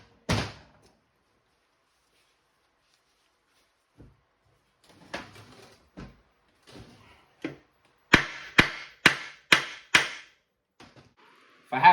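Sharp knocks and scraping on a Ford ZF S542/S547 gearbox case stuck with silicone sealant, ending in a quick run of five loud, evenly spaced taps, with quiet gaps in between.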